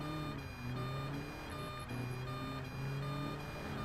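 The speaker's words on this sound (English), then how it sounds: "Yeah, the garbage trucks, that's funny." Steady engine rumble and traffic noise in the Midtown Madness 3 video game, with repeated high-pitched reversing beeps from a garbage truck sounding in short bursts over the constant drone.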